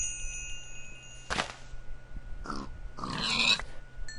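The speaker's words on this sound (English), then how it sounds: "I'm seeing some pigs though" A few pigs in Minecraft grunt and oink in short separate bursts over quiet game ambience, with a brief ding-like tone running underneath.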